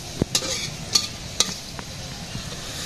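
Spice masala for meat is stirred and fried in a pot at a village harvest festival, quiet frying with a few sharp scrapes and clinks of a spoon spread across a short stretch.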